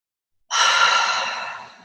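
A single slow, breathy exhale released after a pause, soft and close, trailing off gradually with no speech.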